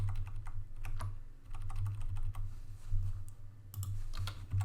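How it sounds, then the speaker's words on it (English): Computer keyboard arrow keys tapped in quick irregular bursts while adjusting parts of a robot arm animation, crisp close clicks over a steady low hum, with no talking. "I'm using my arrow keys."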